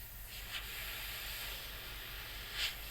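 Inexpensive Mjr Hobby airbrush spraying paint, a steady soft hiss of air with a couple of brief stronger bursts as the trigger is pulled back.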